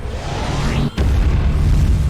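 In the video game Shattered: Tale of the Forgotten King, a powered-up base cannon fires loud, booming explosions: a sustained roaring blast, a brief dip, then another heavy rumbling burst.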